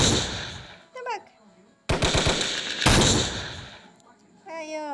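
Gunfire in a Skibidi Toilet vs Cameraman game, two bursts of loud rapid automatic fire separated by quieter gaps, with short spoken exclamations before and after.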